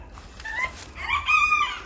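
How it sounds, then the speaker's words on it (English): Hens in a backyard flock cluck and make a drawn-out crowing call, close and clear, a couple of short calls over light outdoor background noise, with no talk. "The breasts and all four hens are doing great."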